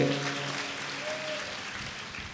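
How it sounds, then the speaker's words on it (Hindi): An audience at a Hindu religious discourse claps steadily in a hall, a dense, even patter throughout, with a voice briefly heard at the start. "ये जो ताली बजा रहे हैं"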